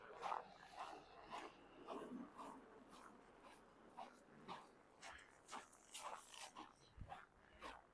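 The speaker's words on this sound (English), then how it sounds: "Oh, another dog." A dog barks and yips repeatedly at a distance outdoors on a frigid winter walk by a creek, the calls faint and irregular over wind and crunching footsteps.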